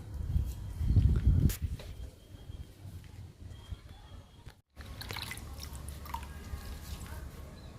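Homemade leaf liquid is poured into potted indoor mint plants. A short, splashy gush lands close by, followed by quiet trickling and drips. A faint voice is heard now and then.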